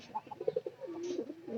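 A pigeon coos nearby in a short, soft run of low throaty pulses that rolls into a longer warbling coo, faint and otherwise quiet.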